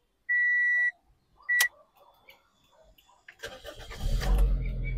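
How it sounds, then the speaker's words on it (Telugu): A 2008/09 Toyota Corolla Altis gives two electronic beeps, then the starter cranks briefly and the engine catches on the first try, settling into a close, rumbling idle. "సింగిల్ సెల్ఫ్ లో అయితే కార్ స్టార్ట్ అవుతుంది ఎటువంటి స్టార్టింగ్ ట్రబుల్ అయితే లేదు"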